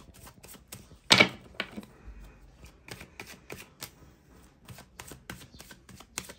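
Tarot cards from two decks are shuffled and drawn, making soft, irregular riffling taps and flicks close by. One sharper snap comes near the start, and the cards keep up a busy, quiet clatter throughout.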